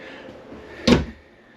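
A large drawer in the rear storage of a 2024 Host Mammoth truck camper slides shut with one sharp, close thud-like knock, then a brief fade back to quiet room tone.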